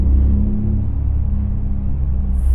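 Electric Porsche Macan GTS driven briskly along a winding country road, a steady low rumble of tyres and drivetrain with a faint electric whine, heard from inside the cabin without talk.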